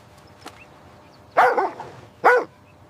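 A dog gives two loud, close barks about a second apart, with a faint yip just before them against a quiet background.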